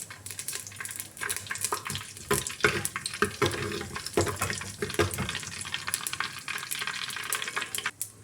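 Bay leaves, dried red chilies and whole cumin crackle in hot oil for a potato curry, a busy close sizzle with bursts of popping and stirring clatter throughout.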